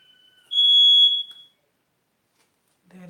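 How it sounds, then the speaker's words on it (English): A smoke alarm with a low battery gives a single sharp, high-pitched chirp lasting about a second, followed by silence, then a brief voice at the end. "That is my smoke alarm once again."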